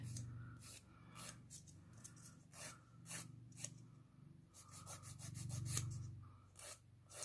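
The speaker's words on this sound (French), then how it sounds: "Enfin, je les lime à ma convenance, en fait." A nail file rubs against false fingernails to round off their pointed corners, making faint, rapid rasping strokes in quick uneven runs at close range.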